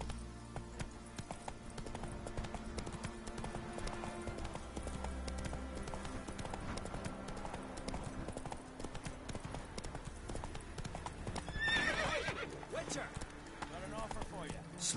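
Hooves of Roach, the horse in the video game The Witcher 3, clopping in a fast, even galloping rhythm under steady background game sound and music, with a brief louder rustling burst near the end.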